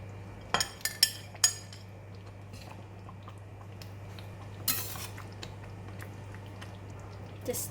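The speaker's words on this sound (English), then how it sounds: "Just give it a stir." A spoon stirs chicken rendang curry in a metal pot, giving a few sharp clinks early on and another scrape and knock later, spaced irregularly over a steady low hum.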